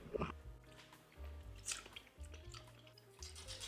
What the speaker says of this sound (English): let me go ahead and stir this up.